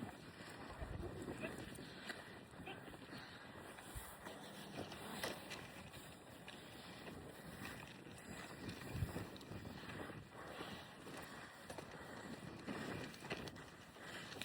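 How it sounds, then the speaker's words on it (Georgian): Strong wind blows outdoors in gusts, roaring steadily and buffeting the microphone for the whole stretch, with a voice faintly audible underneath. "კიდევ ქარი არის."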